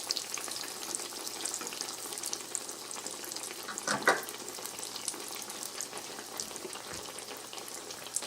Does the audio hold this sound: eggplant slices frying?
yes